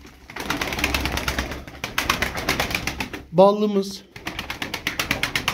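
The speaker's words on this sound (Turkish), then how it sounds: "Bakın kanat sesine bakın." Rapid, close pigeon wingbeats from a Turkish show pigeon flock come in repeated flurries, broken briefly by a man's speech.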